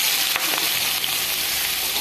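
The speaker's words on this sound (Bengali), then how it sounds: "পেঁয়াজটা আমার খুব ভালো করে ভাজা হয়ে গেছে" Onions fry in hot oil with bay leaf, cinnamon, cloves and cardamom for a prawn and onion dish, giving a loud, steady, close sizzle with no talk.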